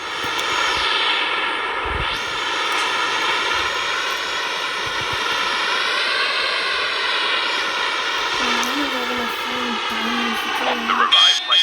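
Continuous jet engine drone from an aircraft in the mobile shooter game Call of Duty Mobile, a steady loud whine holding throughout with a brief tonal game sound near the end.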